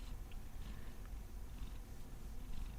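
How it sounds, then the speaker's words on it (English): A cat purrs softly while being picked up and held indoors, a low steady rumble close by with no talking over it. "Oh, he's actually purring."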